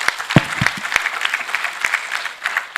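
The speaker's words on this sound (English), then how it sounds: "Can you give my panelists, my presenter, another round of applause?" Conference audience at the SASSCAL 2.0 science conference clapping for a presenter and panelists, a dense patter of handclaps from a room-sized crowd with no voices over it.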